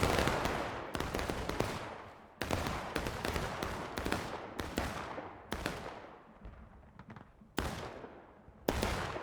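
Scattered musket volleys in the War of Rights game, repeated loud cracking shots with rolling echoes, some overlapping in bursts and others spaced apart, near to mid-distance.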